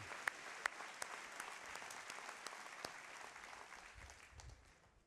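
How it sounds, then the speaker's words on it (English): Sustained applause from an annual meeting audience as Navy veterans stand, a dense steady clatter of many hands with a few sharper claps standing out, fading slightly at the end. "Our clapping, I guess, drowns them out."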